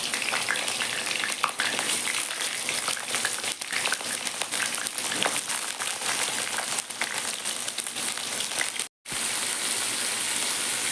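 Jackfruit fries in hot mustard oil in a kadai, a dense, steady crackling sizzle heard up close and alone, with one momentary cutout near the end.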